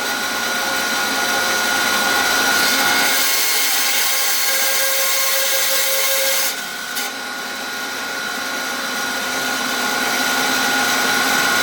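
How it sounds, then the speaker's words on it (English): A bandsaw runs loud and steady for about twelve seconds while cutting a wooden pen blank, its blade whining as it passes through the wood, with a brief shift in tone partway through. "I have this quick jig on my bandsaw"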